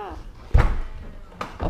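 A Tesla Model X falcon wing door shuts with a solid thump, followed by a softer second knock, close by, with a voice talking around it.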